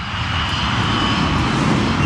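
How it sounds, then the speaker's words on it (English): The Avianca 052 heavy airliner pulls up during a missed approach near New York, its engines a loud, steady, broad roar with no pauses. "The operation of pulling the plane up in the missed approach was a very violent one."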